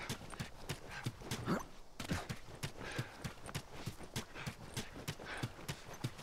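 Steady clip-clop of horse hooves trotting at a regular rhythm in the video game The Last of Us, fairly close and continuous, with a faint whinny-like sweep early on and no talking.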